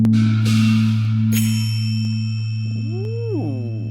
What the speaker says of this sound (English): Cymbal and Gong Ensemble.